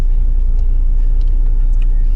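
Inside a car on a long road trip with the air conditioning running, a steady low rumble of engine and tyres on the road continues without a break.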